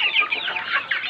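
Flock of KUB chickens on an Indonesian poultry farm, treated for snot (coryza), clucking in a dense, continuous chatter of overlapping calls, close and fairly loud, with no talk.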